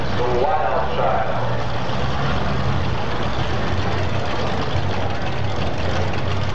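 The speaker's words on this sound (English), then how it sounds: "Here again, Chevrolet engine, the wild child." A Chevrolet race engine idles steadily at a 1987 motorsport event, a loud continuous low rumble with a rough, uneven burble throughout, carried over broad background noise.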